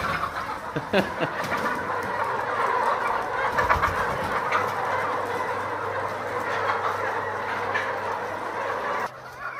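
Newly arrived chickens cluck and murmur continuously inside a modern coop, a steady busy flock sound with occasional louder calls, no talking.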